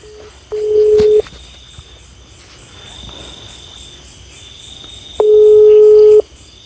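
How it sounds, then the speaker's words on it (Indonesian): Phone call ringback tone, two long steady beeps about a second each with a pause of several seconds between them, clear and loud against a faint background hum while hikers call for help. "Coba saya telepon Mas Putra lagi nih"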